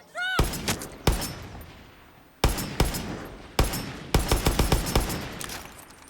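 Repeated gunfire bursts in Far Cry 6, loud sharp volleys and single shots in clusters with brief pauses between, echoing tails after each burst, no talk.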